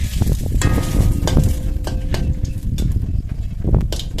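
Whole spices (cardamom, cinnamon, cloves, cumin seeds and bay leaf) frying in a pan give a steady, loud, close sizzle with small crackles and pops throughout, with no talking.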